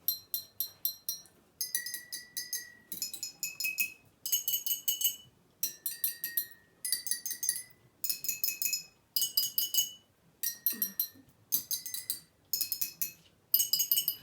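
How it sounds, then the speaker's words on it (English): A run of bright glassy clinks, water-filled bottles tapped in quick groups of three or four, each ringing at a slightly different pitch, fuller bottles lower, close and clear with no talking. "our empty bottle is making a high pitch sound, and our full bottle is making a low pitch sound"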